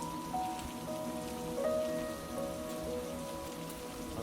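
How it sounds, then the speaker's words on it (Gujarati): Steady rain falls across a village in South Gujarat near muddy farm fields, a continuous close, even patter and hiss on surfaces with no one speaking. "પણ હજી પણ વરસાદ જ પડે છે."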